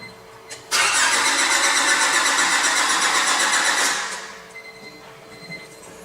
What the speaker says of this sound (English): Now crank the engine over.